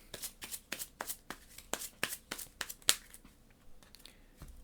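A deck of cards shuffled during a Marvel Legendary tabletop deck-building game: a quick series of crisp riffling bursts in an uneven rhythm, close and fairly quiet, with no talking.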